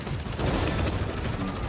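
Continuous rapid weapon fire from the hero shooter Paladins, with Tyra shooting at an enemy shield, a loud dense rattle of shots filling the short stretch without pause.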